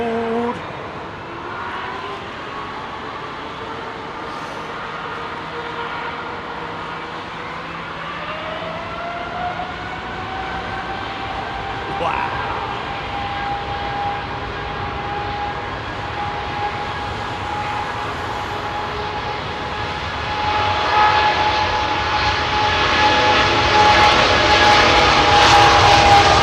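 A Boeing 777-300ER departs Heathrow runway 27R, its engines roaring in a sustained, rising drone with a climbing whine that swells louder toward the end, heard from a distance with no talk.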